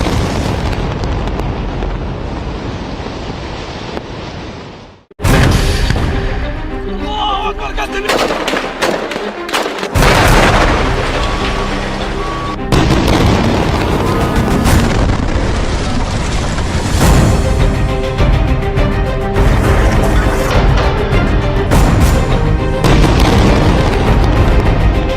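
Israeli army strikes on Hezbollah areas bring loud, sustained bursts of gunfire and heavy booming explosions, one blast after another with artillery-like thuds and a dense, chaotic roar throughout.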